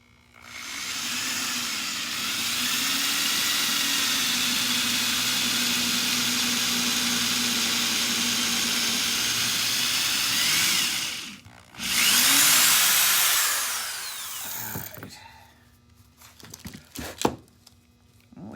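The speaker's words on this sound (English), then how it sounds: "Drilled through" A power drill bores through a cast two-part epoxy resin ornament, its loud steady whine running for about eleven seconds, then a brief pause, a shorter second burst, and scattered clicks and handling knocks.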